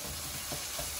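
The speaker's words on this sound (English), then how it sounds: "Just give it a nice stir and mix it." Tawa keema mince meat with salt being stirred on a hot griddle, a brief burst of steady sizzling with soft scraping, close and unbroken.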